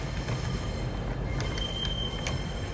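A model LNER Azuma train runs along a model railway track, giving a continuous close rumble of wheels with faint high squeals and light clicks.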